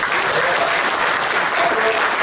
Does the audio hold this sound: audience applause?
yes